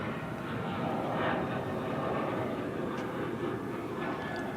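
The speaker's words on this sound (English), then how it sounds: "Here's the other MD-11 we were talking about." An MD-11 jet airliner at Dallas/Fort Worth Airport, a steady broadband engine roar that fills the whole clip at a moderate distance, with faint voices mixed underneath.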